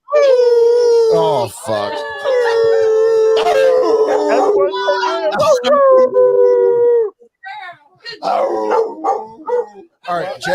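A dog howls loudly and at length in long, wavering cries, breaking into barks and yips, with people talking and laughing around it.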